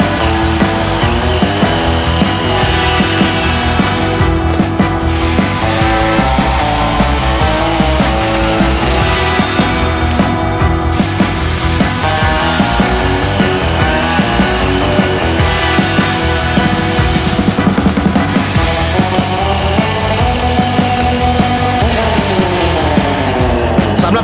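An OSUKA cordless electric 2-in-1 chainsaw whines steadily while cutting high branches, running nearly nonstop for a long stretch with a few brief pauses as it bites through wood.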